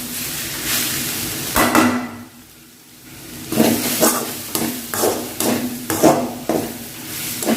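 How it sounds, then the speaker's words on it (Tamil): Spinach poriyal (vallarai keerai) with grated coconut is stirred in a pan: a series of scraping, clattering strokes of a spoon against the metal, a short quiet gap, then steady repeated stirs over a low hiss. "சேர்த்துட்டு நல்லா கிண்டி விட்டுக்கலாம்"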